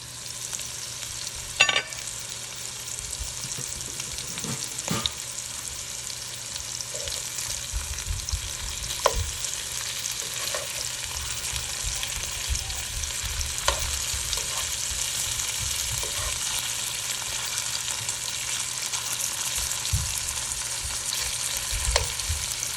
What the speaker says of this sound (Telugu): డిన్నర్కి ఫిష్ ఫ్రై చేస్తున్నాను.